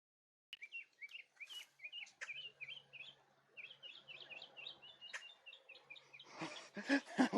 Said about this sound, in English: that's a northern mockingbird, I believe